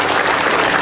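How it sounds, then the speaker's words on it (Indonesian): Applause for a guest on an Indonesian evening talk show, a dense, steady wash of hand clapping that stays loud and even through the whole moment. "Tepuk tangan untuk Pak Marwoto."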